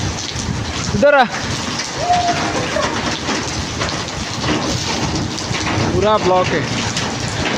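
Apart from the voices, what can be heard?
heavy rain with thunder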